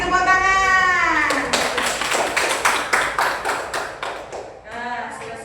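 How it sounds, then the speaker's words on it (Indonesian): Children in a classroom clapping in unison, a run of about a dozen sharp, evenly spaced claps, with a voice speaking before and after the applause. "Kasih tepuk tangan."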